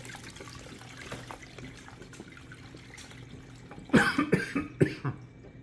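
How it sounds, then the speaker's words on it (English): A few quiet sounds give way to a burst of several harsh coughs close by, set off by fumes from fermented super hot peppers, with faint running water in the background. "you'll hear me coughing left and right because this stuff is potent"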